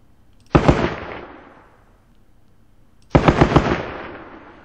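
Two loud, close bursts of .50 caliber machine-gun fire ring out in a Vietnam War battle game set in Hue. Each burst holds several rapid shots and trails off into a long echoing decay.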